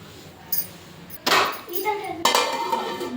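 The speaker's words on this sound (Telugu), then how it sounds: "ఇలాంటి ఒక స్టాండ్ పెట్టుకోవాలండి" A metal stand set down into a heavy cooking pot heating over a high-to-medium stove flame: a small clink, then two louder metallic clatters and scrapes, with ringing afterward.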